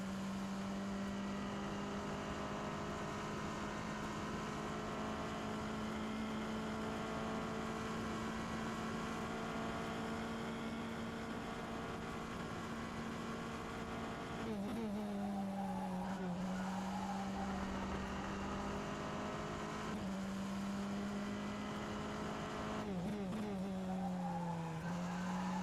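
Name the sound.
F3 Tatuus FT-60 race car driving in rFactor 2 video game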